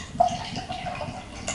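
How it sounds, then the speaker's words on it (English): Long Live the King pale ale from Great British Brewing Co pours into a glass with a soft splashing, bubbling rush that stays close and fairly loud for the short clip. "let's just pour some alcohol into Zach Dingle."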